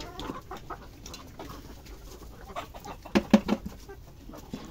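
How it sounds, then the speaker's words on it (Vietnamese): A flock of laying hens on a Vietnamese home farm clucks softly at a distance, with a short burst of louder, closer clucks near the end. "Đây là đàn gà đẻ nhà mình đây."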